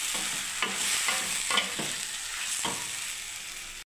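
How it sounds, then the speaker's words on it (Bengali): Okra being stirred through a mustard and poppy seed masala with turmeric in a pan, a steady sizzle under repeated scraping strokes of a spatula, close and clear with no voices. "আমি এবারে নাড়তে থাকছি বন্ধুরা।"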